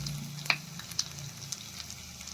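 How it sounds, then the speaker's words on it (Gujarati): Cumin seeds and garlic cloves spluttering in hot oil, a soft steady sizzle with a few sharp pops, close but quiet. "જીરું અને લસણની કળીને સરસ તતરી જવા દઈએ"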